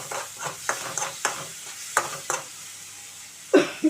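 Tomatoes simmering in a pan for a macaroni pasta sauce, with repeated sharp scraping strokes of a spoon against the pan over a quiet sizzle, a louder clank near the end.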